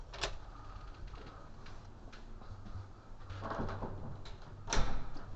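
A door at a city hall office opens and closes, with soft clicks and a louder knock-like thud near the end over a quiet room hum.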